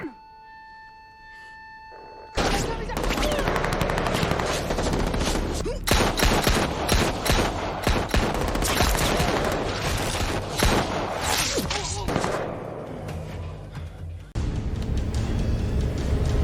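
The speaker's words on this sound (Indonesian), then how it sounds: "Saling tembak pun tak terhindari lagi." After a quiet tone, rapid bursts of gunfire break out and continue intensely, with shots overlapping in a chaotic exchange, loud and close.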